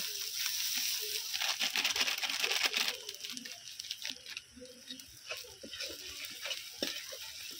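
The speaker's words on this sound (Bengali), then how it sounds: "সব কিছু আবারও খুব ভালো করে কষিয়ে নিচ্ছি।" Spice paste of ginger, garlic, turmeric and red chili powder fried and stirred in a pan, a soft sizzle with irregular scraping and clicking of the spoon, fairly quiet and close, fading slightly midway.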